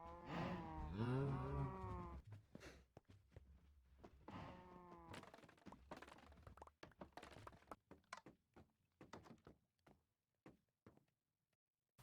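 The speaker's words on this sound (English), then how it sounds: "I forgot to mention that we also breed cows." Cows mooing in hardcore Minecraft survival, several drawn-out moos close together near the start and middle, followed by a run of short clicks and taps as things quiet down.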